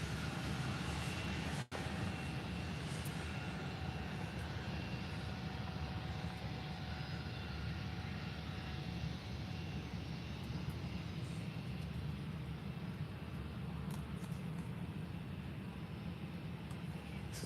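Airliners at Faro airport, including TUI and British Airways jets, give a steady, distant engine roar that holds throughout with a brief dropout near the start and no talk.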